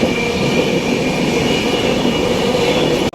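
Visakhapatnam to Secunderabad AC Superfast Express 12773 passenger train running, a loud, steady close rumble of wheels on rails that fills the whole stretch and cuts off abruptly at the end, with no talking.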